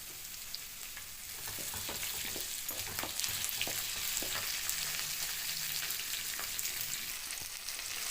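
Onion and tomato sautéing in a pan for avaraikkai poriyal, with a dense steady sizzle and frequent scraping stirs throughout, nearby and without talk.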